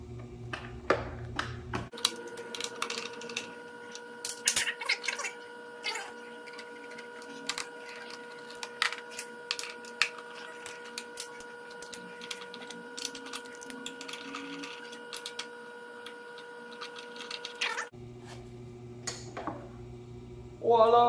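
Ratcheting and light metallic clicks from removing the 10 mm bolts on the four seat bucket mounts of a 2005 Yamaha Zuma scooter, close up over a steady hum, with the mechanical whir running almost continuously for most of the clip.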